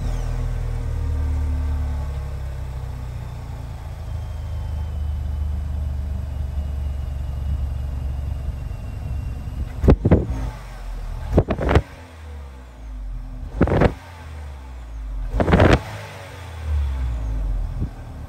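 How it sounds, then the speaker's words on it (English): The exhaust of a 2018 Chevrolet Malibu LT rumbles low and steady while running, with several brief, sharp bursts of louder noise in the second half. "if you guys wanna know what the exhaust sounds like"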